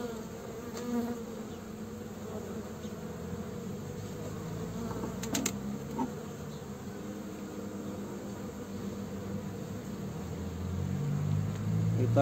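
Honey bees hum in a dense, steady swarm while frames move from a Langstroth hive to a ten-frame horizontal hive, a continuous buzz close by that swells slightly toward the end, with occasional handling knocks.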